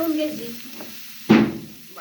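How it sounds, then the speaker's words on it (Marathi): A short burst of garlic tempering hissing in a pan, one sharp sizzle rising from a quiet background with a faint fizz trailing after it. "तव्यात लसणाचं दिन फोडणी देऊन चाललंय"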